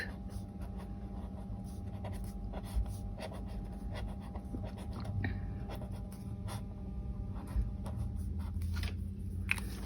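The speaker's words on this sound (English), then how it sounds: "I'm just going to draw a little bit of something." Soft, faint scratching strokes of a Pentel colour brush pigment pen drawing on paper, a quiet steady scribble with occasional small ticks and no talking.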